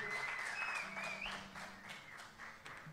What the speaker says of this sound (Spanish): ¿Puede ser un aplauso más grande, muchachos, por favor?